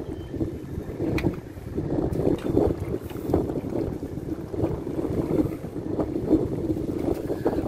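A large boat on the Tien River pushes through strong rainy-season wind, with steady engine and water rumble under gusty wind buffeting the microphone, close and continuous, with no talk.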